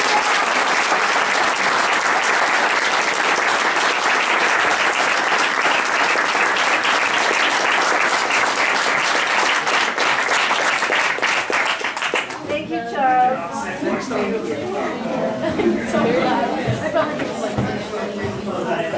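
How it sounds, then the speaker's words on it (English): A literary awards evening audience gives a long round of applause, a thick sustained roar of clapping that ends abruptly, after which murmured crowd chatter and voices take over. "A big round of applause for everyone tonight."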